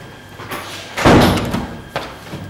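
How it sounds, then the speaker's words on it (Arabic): A door is pushed shut indoors with one solid thump partway through, followed by a lighter knock against quiet room noise. "سكر سكر هالباب عشان ما يفوت هوا بارد"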